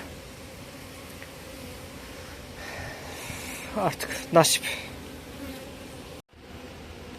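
Honeybees buzzing around a three-story hive, a steady low hum with a few louder passes close by, while a person speaks briefly.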